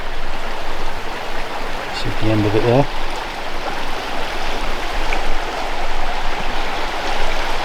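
The Vire river flows with a constant broad rush of water, close and fairly loud, while a person speaks briefly over it.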